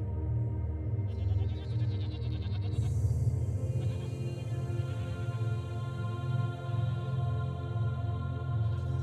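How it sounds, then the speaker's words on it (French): Goats bleat in a remote mountain setting in the Corbières, calls repeating over a steady low drone, continuous and moderately loud, no speech. "juste des chèvres"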